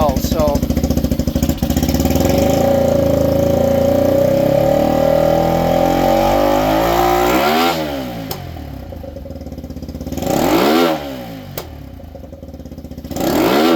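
A CFMoto 300NK motorcycle engine, fitted with Kibblewhite White Diamond stainless valves and titanium springs, idles with a gritty rumble and then is blipped in several sharp revs that rise and fall, loud and close.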